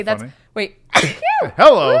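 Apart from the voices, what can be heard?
sneeze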